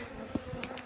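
Honeybees buzz around an open beehive at an apiary as frames are being taken from it, a dense continuous hum with individual bees droning close past.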